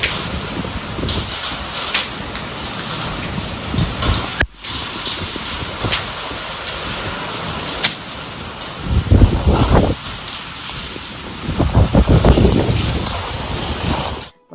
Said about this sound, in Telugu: ఒక హాఫ్ అన్ అవర్ దంచి కొట్టింది వర్షము.